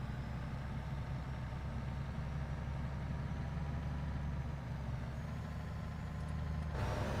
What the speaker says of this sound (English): Yes, this is a Kenworth.